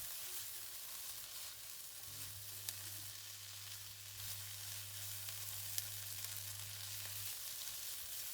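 Chopped onions fry in about a tablespoon of oil in a pan over medium heat for a cauliflower and pea curry, a soft continuous sizzle heard alone with a faint steady low hum beneath.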